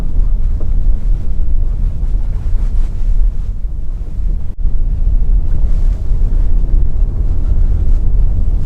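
A 2024 Subaru Crosstrek climbs an uphill, nearly off-road track: a loud, steady low rumble of engine and tyres with wind buffeting the microphone throughout, with one brief dip midway and no talking.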